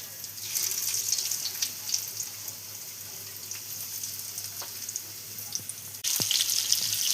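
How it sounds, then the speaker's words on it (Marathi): Mackerel (bangda) fish coated in semolina (rava), frying in a pan, giving a steady hissing sizzle throughout that grows louder near the end as the fish is turned. "आता आपण याला फ्राय करायला घेऊया"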